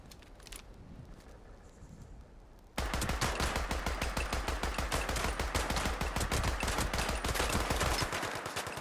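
Rapid automatic gunfire erupts in a video game shootout, a dense, loud, continuous burst of shots after a few seconds of quieter ambience, sustained to the end.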